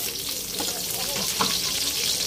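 Onion frying in hot oil with already-cooked garlic for pancit bihon, a steady dense close sizzle with faint stirring scrapes throughout, no talk.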